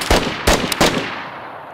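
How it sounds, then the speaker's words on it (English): Gunfire in the video game DayZ, three sharp close shots within about a second, each followed by a short echoing decay, with no talk over them. "He's shooting at me, bro."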